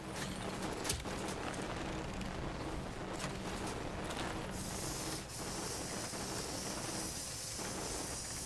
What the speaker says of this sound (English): I'm gonna use the spray right here.